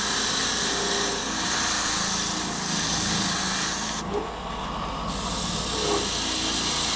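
Sandpaper held against the spinning throwing wheels of a Lobster pickleball ball machine gives a continuous broad hiss and whir, steady and close, with a brief dip midway and no speech.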